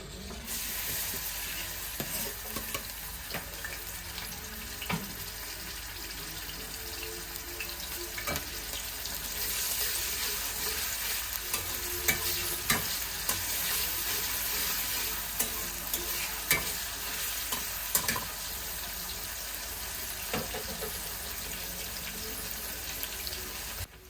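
Green chilies and onions fry in a pan for pasta, giving a steady close sizzle with frequent scraping and stirring knocks throughout, without speech.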